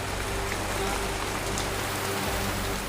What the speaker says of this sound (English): The rain is relentless